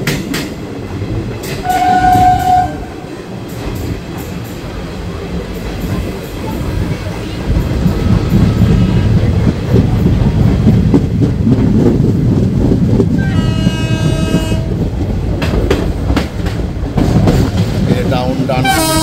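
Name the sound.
passenger train running on the Kolkata to Digha route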